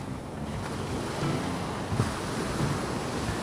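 Ocean waves on a Philippine Sea beach wash in a continuous surf roar with soft swells and a brief surge, mixed with wind noise on the microphone and no talking.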